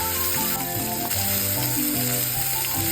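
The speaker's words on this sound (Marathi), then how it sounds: "जिरा, मोहरी आणि हिंग फोडणीला घालून घेणार आहोत" Loud, steady sizzling and crackling of cumin and mustard seeds frying in hot oil with asafoetida, with sharp popping bursts throughout.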